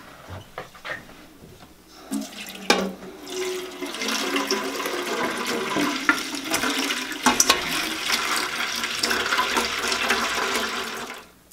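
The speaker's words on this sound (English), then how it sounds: "And now I'm gonna add three inches of water in here." Water runs into a dye pot set up for natural yarn dyeing with cochineal, a steady rushing pour lasting most of the stretch after a few clunks and knocks at the start, with no one talking.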